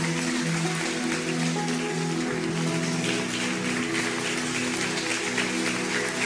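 A church congregation applauds steadily, a dense sustained patter of clapping with a faint tonal hum beneath it throughout.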